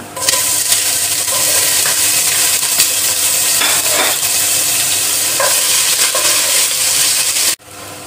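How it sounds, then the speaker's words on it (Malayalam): Ginger and garlic sizzling steadily in hot oil for a Kerala-style beef curry, with occasional stirring scrapes, near and continuous before cutting off abruptly at the end. "ഇഞ്ചിയും വെളുത്തുള്ളിയും മൂത്തിട്ടുണ്ട്."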